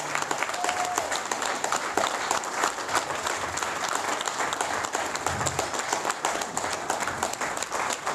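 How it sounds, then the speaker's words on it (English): Sustained, dense audience applause fills a tribute-style 'This Is Your Life' event, loud and steady throughout with crowd clapping and no clear talk over it. "Give him a round of applause."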